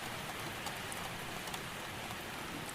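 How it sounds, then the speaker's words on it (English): Steady rain falls in a continuous, even hiss with soft scattered drop patter, quiet and unbroken, at an old bookshop in Scotland where a fire burns nearby. "The rain continues to fall"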